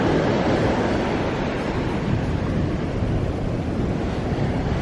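Ocean waves breaking near the shore during outdoor painting by the sea, a steady broadband wash of surf with heavy wind noise on the microphone, no speech.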